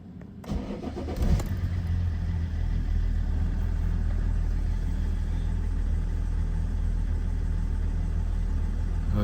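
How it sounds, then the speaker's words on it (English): A BMW E60 sedan cranks briefly, catches with a rough burst, then settles into a steady, loud, continuous idle that drones on evenly for several seconds with no voices. "So let's start the car and see if we have any fault codes coming up."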